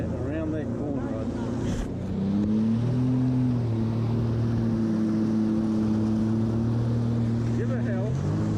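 A Sea-Doo jet ski engine on Lake Ianthe, New Zealand, rises from idle into a loud, steady droning whine as it accelerates, close and continuous, with wind buffeting and a person talking over it.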